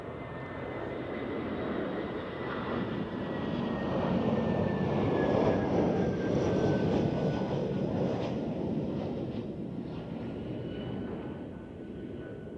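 A Swiss Airbus A321 airliner roars past at Zurich Airport, a broad engine rumble with a thin whine that swells to a peak midway and then slowly fades.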